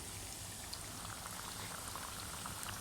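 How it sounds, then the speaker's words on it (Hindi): Chicken pieces fry hard in a kadhai of hot oil, a dense, even crackle and sizzle held at constant loudness throughout, close and uninterrupted. "अब इसको थोड़ी देर ऐसे फ्राई एक साइड पे होने देंगे"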